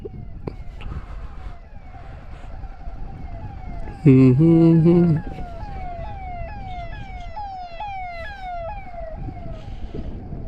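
An ambulance passes on a highway in Uttarakhand with a repeating wailing siren that sweeps up and down over steady road and traffic noise. A loud horn blast sounds briefly partway through.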